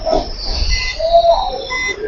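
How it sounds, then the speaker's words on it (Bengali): Amrit Bharat Express train running at about 130 km/h, heard as a steady loud rumble and rushing noise with faint high squeals, without talk. "আমাদের ট্রেন কত গতিবেগে যাচ্ছে একবার দেখুন খালি"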